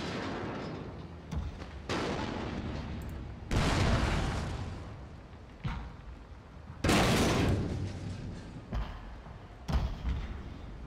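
Heavy booming cannon and artillery fire in a Total War Shogun 2 naval battle against ironclads and coastal batteries, several loud blasts at irregular intervals with rumbling between, close and powerful.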